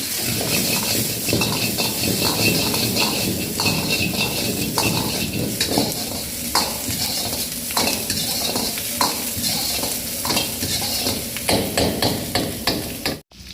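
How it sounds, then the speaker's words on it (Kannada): Onion and capsicum cut into large pieces fry in a pan for a chilli chicken dish, with a loud steady sizzle and repeated stirring clatter close up and no voices. "ಈರುಳ್ಳಿ ಮತ್ತು ಕ್ಯಾಪ್ಸಿಕಮ್ ಸ್ವಲ್ಪ ಹುರ್ಕೊಳ್ಳೋಣ"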